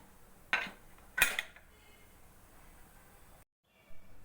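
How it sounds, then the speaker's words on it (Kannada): A metal pressure cooker lid being set and closed over a pot of tomato bath, giving two sharp clattering knocks about half a second apart against a quiet kitchen background, with a faint bump near the end. "ಇವಾಗ ಕುಕ್ಕರ್ ಮುಚ್ಚಳ ಮುಚ್ತಾ ಇದ್ದೀನಿ"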